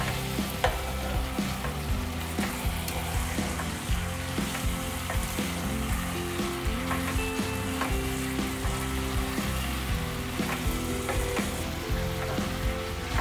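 Mutton curry sizzling and frying in a hot pan with chili powder and garam masala while being stirred, steady loud crackle with repeated scraping and clinking of the spoon throughout, no voices.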